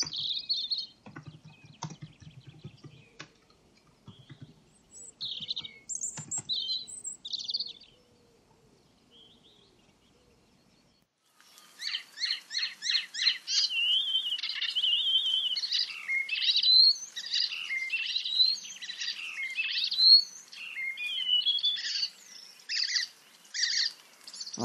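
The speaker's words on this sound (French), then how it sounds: "ici on a la phrase irrégulière qui change chaque fois du rouge-gorge" A European robin sings a rapid, varied string of high, tinkling phrases, clear and fairly close, after a few scattered chirps and quiet gaps.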